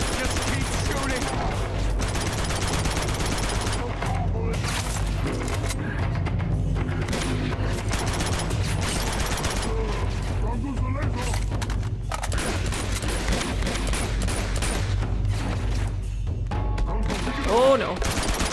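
Sustained firefight gunfire in Uncharted 2, near-continuous shots and automatic bursts over a low rumble for the whole stretch, with occasional talk mixed in.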